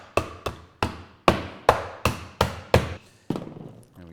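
Rolling pin strikes crab claws wrapped in a tea towel, nine sharp, heavy thuds in a steady rhythm about every third of a second, close and loud, with no talk.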